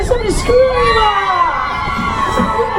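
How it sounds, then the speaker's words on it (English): A rock and roll show crowd on Blackpool's South Pier screams and cheers continuously, loud and near, with children's shrieks rising above the mass of voices. "One last time, somebody scream!"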